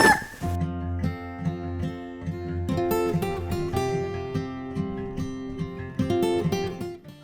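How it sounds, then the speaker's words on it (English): Backyard chickens in the Pacific Northwest cluck and make odd calls, blending with sustained melodic tones that run steadily through the whole stretch at moderate loudness. "I've got some chickens making some funny noises today."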